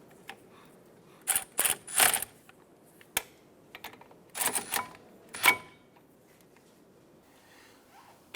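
Ratchet driving caliper bolts on a 2005-2007 Ford Five Hundred front brake during wheel bearing and hub replacement: several short bursts of metallic clicking, close and fairly loud, separated by pauses.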